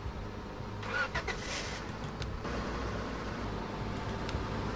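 A car engine in the Roblox game Lumber Tycoon 2 hums at a steady low idle, with a few brief clicks and bumps over the first half.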